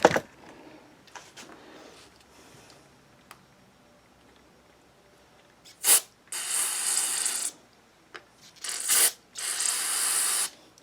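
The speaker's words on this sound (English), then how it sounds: "use a little bit of carb spray to spray through that" Several bursts of pressurized carburetor cleaner spray into the carburetor of a Troy-Bilt Storm 10030 snow blower with a 10HP Tecumseh engine: a short one, then two longer hisses with a pause between, close and loud, after quiet handling noises.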